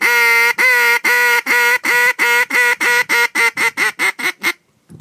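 Duck call blown as a high ball, a loud, close series of about fifteen nasal quacks, long at first and then quickening and shortening toward the end.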